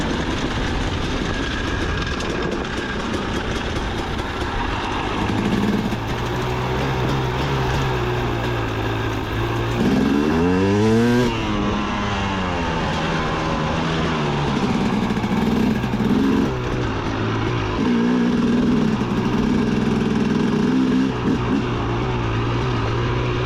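A 2004 KTM 250 EXC dirt bike engine runs steadily up close, its tone rising and falling through a sweeping rev change midway, with continuous rumbling drone throughout and no speech.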